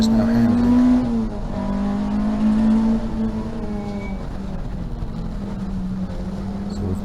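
Race car engine droning steadily at Rockingham, loud and close with a gradually falling pitch, under a faint voice.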